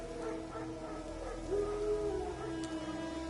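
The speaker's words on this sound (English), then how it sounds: "No. Wild dogs." Wild dogs howl in The Witcher 3: Wild Hunt, one drawn-out, wavering howl rising midway through a steady low ambient drone.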